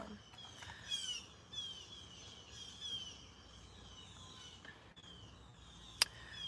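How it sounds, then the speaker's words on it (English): Faint birdsong outdoors, with a few thin chirps and trills scattered over a quiet background and a sharp click near the end. "I think we might be good with the birds instead of the music today"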